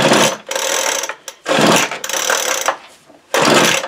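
A Troy-Bilt TB430 leaf blower is pull-started, giving three loud, close, rasping recoil-cord pulls of roughly a second each, separated by short pauses, with no engine catching.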